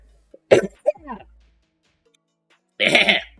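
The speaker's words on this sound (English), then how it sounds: "had to clear my throat" A man clears his throat in a couple of short, raspy bursts close to the mic, then a pause of silence before a final harsher throat-clearing rasp.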